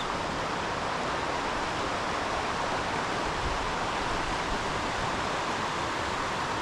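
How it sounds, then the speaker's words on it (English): Roaring Brook on private land gives a steady, loud rush of flowing water, an even broadband wash that holds unchanged from start to finish with no voices over it. "if you're wondering about the Roaring Brook"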